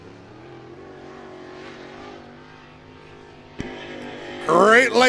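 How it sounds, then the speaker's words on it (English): Late model race cars run hot laps at a dirt speedway in Dresden, Ohio, engines droning at a distance under a track announcer's voice, then a nearer car swells in with a rising, revving whine near the end. "Great late models out for their hot lap session."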